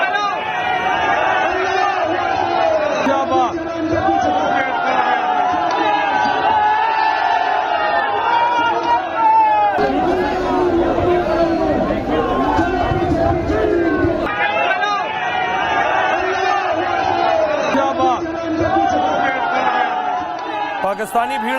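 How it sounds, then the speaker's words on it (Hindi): A large Pakistani crowd chants slogans outside the Indian embassy, a loud, dense, continuous wall of massed voices with rhythmic shouting that never lets up, swelling briefly in the middle. "पाकिस्तानी भीड़ आप देख रहे हैं जो भारतीय दूतावास के बाहर मौजूद है, नारेबाजी कर रही है"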